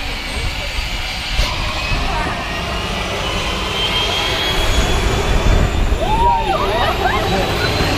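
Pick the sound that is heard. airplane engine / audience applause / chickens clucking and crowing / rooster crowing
airplane engine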